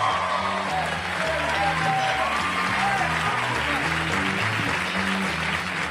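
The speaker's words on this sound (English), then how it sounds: "a big, rousing round of applause for Mr. Pat McGann." Steady, dense applause from a stand-up comedy audience fills the whole stretch, with crowd murmur and some voices mixed in.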